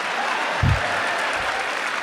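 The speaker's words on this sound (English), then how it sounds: "give Evan a round of applause" An audience at a University of Michigan event applauds for a student named Evan, a steady wash of clapping at moderate volume with a brief low thump partway through.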